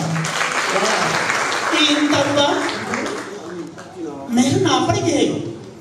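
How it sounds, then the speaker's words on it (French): An audience at a gathering applauds, a dense burst of clapping that swells and continues under overlapping voices and talk. "D'applaudisser pour Wallace"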